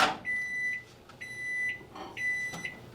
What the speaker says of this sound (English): What a satisfying beeping noise.